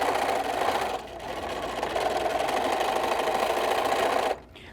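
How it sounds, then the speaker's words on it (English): A sewing machine stitches across the edge of a fabric microwave potato bag, a close, steady mechanical whir with a brief dip near the first second, then it runs on evenly and stops abruptly near the end. "I'm going to stitch across the edge here"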